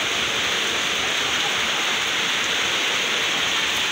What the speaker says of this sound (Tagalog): malakas-lakas pa yung ulan